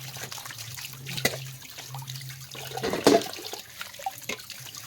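Tap water running and trickling while plates are washed by hand, an uneven splashing flow with clinks and a louder gush near the middle, close by and without talk.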